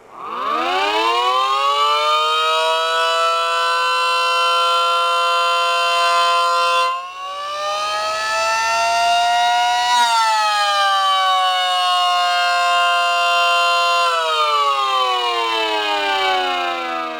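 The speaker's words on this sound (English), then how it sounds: "Here's what happens when the air intake is covered on one of my mini sirens." A homemade mini siren driven by a brushed motor, its air intake covered, wails loudly and steadily for the whole span, its pitch rising, dipping briefly midway, then sliding and wavering with changing motor speed.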